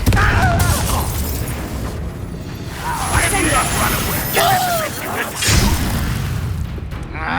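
Spell blasts from the Confringo fiery curse in the video game Hogwarts Legacy, loud booming bursts and crackling impacts repeating through a busy combat soundscape with swooshes and voices over it.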